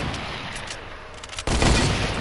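Video game sniper rifle fire: a quiet stretch with faint clicks, then a sudden loud gunshot blast that rings on as a dense, booming tail.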